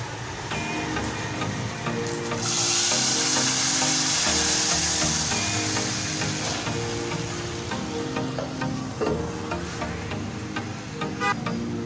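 Loud, sustained sizzling as a hot oil and spice tempering hits a pot of lentils, crackling and hissing close by, with faint clinks of a utensil.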